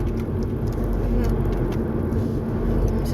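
A car rolls along the road, heard from inside as a steady low engine and road rumble with a faint hum, unbroken for the whole stretch.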